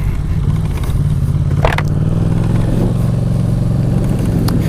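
A Yamaha Tracer motorcycle rides an off-road track, its engine droning loud and steady up close. Brief clatter and rattles come from the rough ground.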